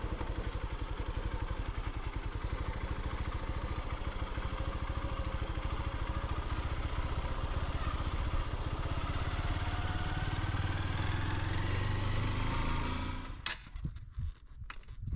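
A motorcycle engine runs steadily with a rattling, mid-pitched drone for several seconds on a muddy mountain trail in Vietnam, then cuts out abruptly into near quiet.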